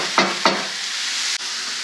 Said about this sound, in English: we're just going to get this in here and get it browning